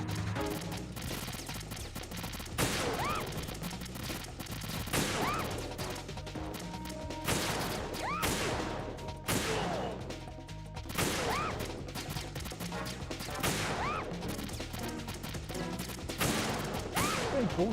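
Repeated bursts of gunfire and explosive crashes from the video game Metal Gear Solid 2 on PS2, loud and dense throughout, with sharp impacts every second or two over a steady background of game sound.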